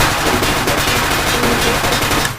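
Rapid gunfire from a Max 10 pistol in a video game, a dense, loud, continuous burst of shots filling the whole stretch before cutting off, with no talk.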